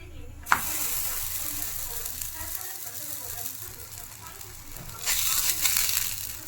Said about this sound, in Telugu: ఆయిల్ పూసుకున్న తర్వాత మనం తయారు చేస్తున్న భక్షం దాని మీద వేద్దాం